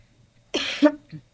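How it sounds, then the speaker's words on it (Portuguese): A single adult cough, short and close, with a slight throat-clearing tail in an otherwise quiet room. "Tá repreendida essa tosse, em nome de Jesus"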